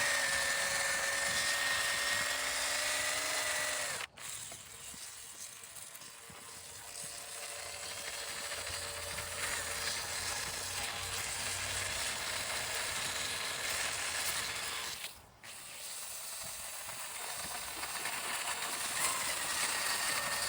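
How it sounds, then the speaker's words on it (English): An 80 grit wheel grinds and smooths a large jasper stone, a steady abrasive whir and scraping that runs close and loud throughout, with two brief dips where the contact breaks. "Starting off with the 80 grit wheel, we're going to spend a lot of time here just trying to smooth it out, flatten out some of these bumps and divots"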